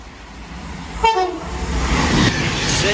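A Class 390 Pendolino electric train running from London Euston to Manchester Piccadilly passes through Poynton station, with a short horn sounding and then a loud, rising rush of rail noise as it speeds by.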